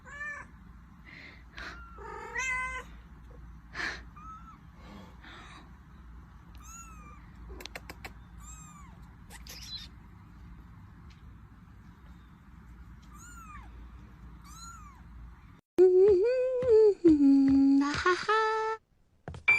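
A mother cat with her kitten gives several short meows and chirps over a low steady background hum, then a louder, longer drawn-out cat call close up near the end.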